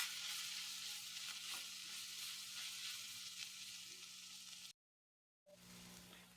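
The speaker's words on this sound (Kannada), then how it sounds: "ಇದು ಒಟ್ಟಿಗೆ ಸರಿಯಾಗಿ ಫ್ರೈ ಆಗಲಿ." Onion with ginger and garlic paste frying in a pan for chicken curry gives a soft, steady sizzle and crackle, which cuts out briefly near the end before returning.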